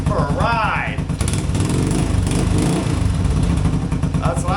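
A $450 three-wheeler's engine idles on its own at night, a loud, steady close-up chug with a brief higher whine near the start and again at the end.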